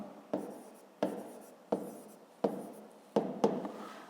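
Pen writing numbers by hand on paper, close and quiet, in six distinct scratchy strokes spaced roughly evenly, each starting sharply and trailing off.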